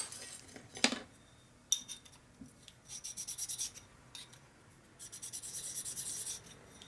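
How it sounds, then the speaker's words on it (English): A file works piston rings flat for a Harley 650 single XL Sportster rebuild, with a couple of sharp clinks followed by two runs of rhythmic, close rasping strokes. "You can see how I file them a little bit, trying to make them flat up there."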